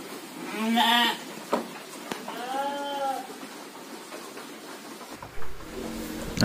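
Sheep recovering after a long trip bleat repeatedly at close range, several wavering calls spaced across the stretch with faint background sounds.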